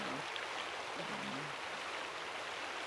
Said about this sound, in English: This is a creek on its way just around that bend into the river